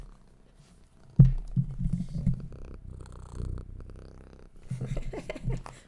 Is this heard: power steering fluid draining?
no